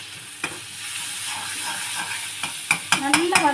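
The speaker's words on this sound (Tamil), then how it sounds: "நார்மலான தக்காளி தொக்கில் லைட்டாக எண்ணெய் ஊற்றி இந்த பாருங்கள் இப்படி வதக்கிக்கோங்க" Tomato thokku sautés in a little oil, a soft continuous sizzle with several sharp stirring scrapes and clacks of a spoon against the pan toward the end.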